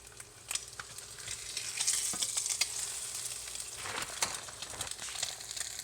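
Eggs cooked over medium, just flipped in a pan beside bacon, fry with a busy crackling sizzle and scattered sharp pops, the spattering rising and falling with no one talking.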